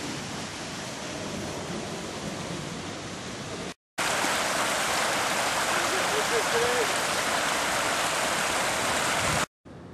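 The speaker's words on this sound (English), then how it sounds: "And pushing water out through the canal." Water rushes steadily through a canal at a water treatment facility in Tempe, a loud, continuous broadband roar that fills the clip apart from two brief dropouts.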